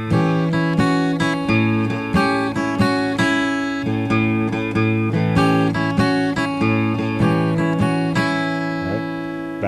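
Acoustic blues guitar in E, fingerpicked with a steady bass note under a three-note melody on the upper strings, plucked notes ringing clearly and evenly throughout, played alone with no voice.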